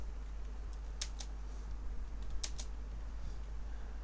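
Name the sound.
typing code on a computer keyboard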